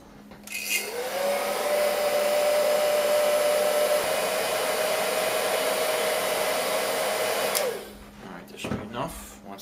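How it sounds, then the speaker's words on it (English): Heat gun blowing steadily on a main shaft bearing of an Outrage Fusion 50 helicopter, a loud continuous whirring roar with a faint tone that runs for several seconds and then cuts off, followed by light handling noises. "Start heating this one."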